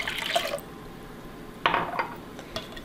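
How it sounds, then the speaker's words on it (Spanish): A cup of cold water poured into a bowl while making mousse for a frozen raspberry cake, heard as short splashy bursts of liquid with faint clinks of kitchen dishes between them. "ahora le voy a echar a esto una taza de agua fría."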